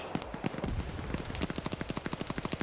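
M249 light machine gun fire in a PvP video game match: scattered shots at first, then a long, rapid, evenly spaced burst that rattles on steadily and fairly loud.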